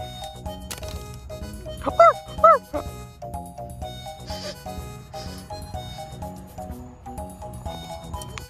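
Two short cartoonish dog barks from a new dog in a plush-toy play scene, loud bursts around the middle over background music and ongoing chatter.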